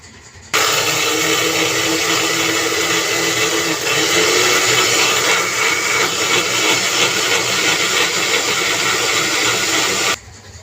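A kitchen grinder blends soaked rice with water into a paste, a loud steady whirring drone that starts abruptly, runs about ten seconds, then cuts off.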